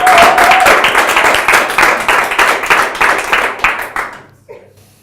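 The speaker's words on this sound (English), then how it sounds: "So give yourself a big round of applause." A live audience at a motivational talk gives a dense, loud round of clapping that holds steady, then thins and fades out near the end.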